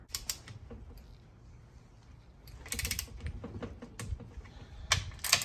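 A torque wrench tightening main bearing caps on an SR20DET engine during a rebuild, a series of close ratcheting clicks in short bursts, separated by quieter pauses, with no talking.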